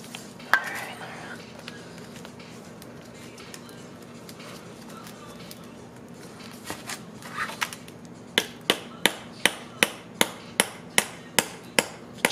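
A hammer drives a spherical BLOX rear trailing arm bushing into a Honda CRX Si without a press. After quiet shop sounds, about ten sharp, evenly spaced metal blows ring out in a steady rhythm.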